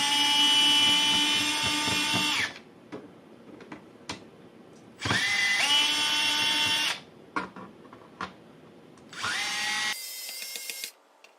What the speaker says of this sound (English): We have a total of 16 screws that go all the way around, so keep track of those as you remove them.